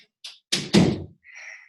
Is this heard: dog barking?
no